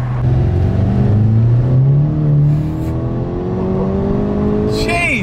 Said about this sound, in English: now it's boosting and it boosts hard